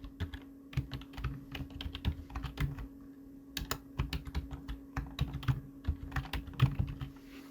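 Text being typed on a computer keyboard in a graphic design lesson, with quick irregular clacking keystrokes in bursts and short pauses under a steady low hum, close and fairly quiet, no talking.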